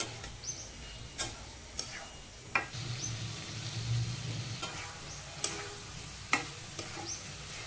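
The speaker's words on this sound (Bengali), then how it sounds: "প্রথমে বুটটা ভুনা করে নিচ্ছি।" Chickpeas being stirred and fried in a pan for boot bhuna, a low steady sizzle under a few sharp scraping taps of the spoon, close and fairly quiet.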